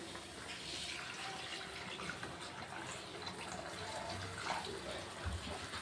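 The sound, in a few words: warm water poured into spice mixture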